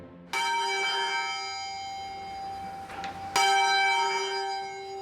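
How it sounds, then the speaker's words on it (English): Two strikes of the Bow bells at St Mary Le Bow church in London, each a loud, ringing clang that hums and decays slowly, the second landing about three seconds after the first. "These are the Bow bells, arguably the most famous bells in London."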